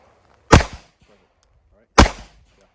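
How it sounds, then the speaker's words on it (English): Two sharp, loud handgun shots crack at a target during shooting coaching, spaced about a second and a half apart, each with a brief echo tail in an otherwise quiet range. "Fire a couple shots, and then we'll move to the next person."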